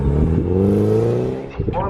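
A Mazda MX-5 race car in the BRSCC championship at Snetterton accelerates hard, its engine note climbing in strong rising harmonics, close and loud, with voices talking over it and a brief dip near the end.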